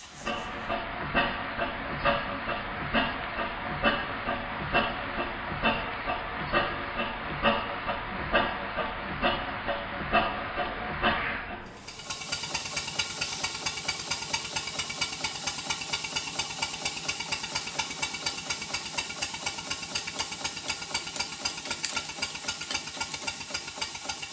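A repaired Stuart 5A model twin-cylinder steam engine chuffs in a quick regular rhythm, then shifts to a faster, hissier beat partway through; close and steady, no talking.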